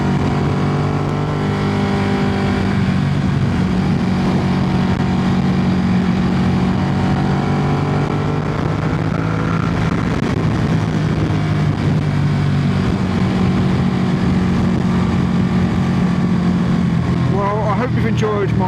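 A 2020 Ducati Panigale V2 motorcycle ridden along winding country roads, its engine droning loud and close with smooth rises and falls in pitch as it rolls on and off through corners, a rider's voice speaking over it.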